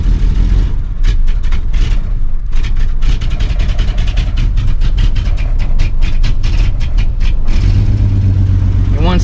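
A Toyota Land Cruiser engine up close, revving in uneven bursts under throttle and sagging as if about to stall, loud and rough with a low rumble throughout.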